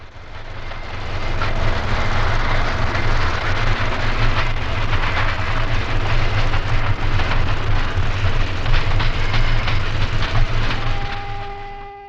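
An eastbound South Shore Line electric interurban train rolls through Burnham Yard near Chicago with a loud, steady rumble, close by and sustained throughout before easing off at the end, with no voices.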